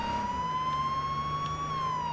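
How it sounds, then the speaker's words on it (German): A steady electronic emergency vehicle siren wails in the H1Z1 battle royale game, one sustained tone holding loud and unbroken throughout, with a low engine hum beneath and no talking. "ich höre nur Sirene"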